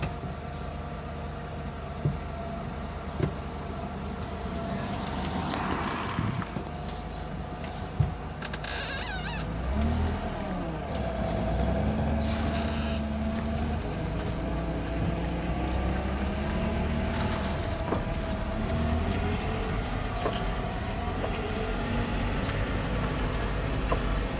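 Car driving on a road, heard from inside the cabin: a steady low engine and road hum runs the whole time, with a few small knocks and creaks over it.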